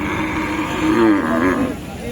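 A low, drawn-out cow moo sounds amid a busy outdoor crowd with constant background chatter at a Bangladeshi sacrificial cattle market, Baneshwar Bazar.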